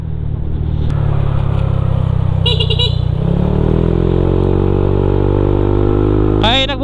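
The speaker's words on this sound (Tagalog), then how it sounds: "Ay, nagbubusina ako kasi baka may kasalubong tayong mga sasakyan." A vehicle on the mountain road from San Luis to Baler via Dingalan, Aurora, sounds two short horn blasts over its steady, droning engine, the second honk near the end as the engine pitch rises slightly.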